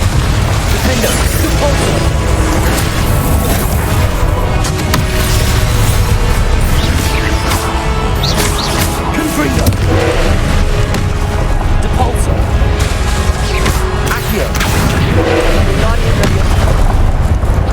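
Confringo spell explosions in the Hogwarts Legacy video game burst one after another as loud, booming blasts within a dense, continuous wash of game noise, with a voice talking over the action.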